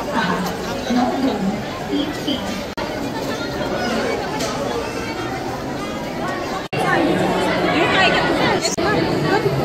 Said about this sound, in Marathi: इकडे गर्दी आहे. इथे सगळीकडे एवढे रांग आहे.